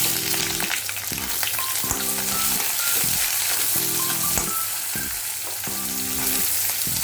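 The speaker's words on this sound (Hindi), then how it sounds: "तो अनियन थोड़ी सी ब्राउन करके भून लेते हैं पहले" Onions and Kashmiri red chili frying in a pan, with a steady loud sizzle throughout and recurring scraping stir strokes, alone without talk.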